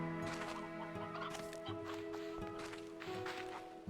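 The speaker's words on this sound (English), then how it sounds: "Oh, that's an elder hen." An elder hen clucks in the Slime Rancher video game, with chicken clucks and fowl calls heard over steady game music and ambient effects at moderate volume.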